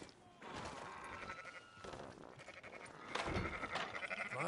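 Sheep bleat repeatedly in the Western game Red Dead Redemption, several overlapping calls near and clear, with no talk over them.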